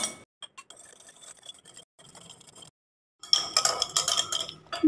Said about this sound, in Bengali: টক দইটাকে আমি খুব ভালো করে ফেটিয়ে নিচ্ছি